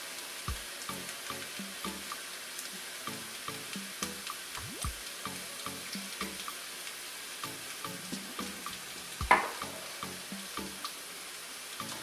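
Kielbasa and barbecue sauce stirred in a pan, close and fairly quiet: a steady soft sizzle with repeated scraping and clicking strokes, one sharper clack near the end.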